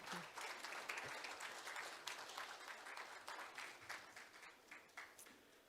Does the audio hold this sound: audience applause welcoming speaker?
yes